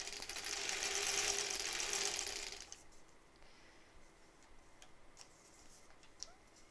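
A sewing machine stitches foundation paper piecing for a quilt block, whirring steadily and fairly close for about two and a half seconds before stopping, followed by faint ticks and handling.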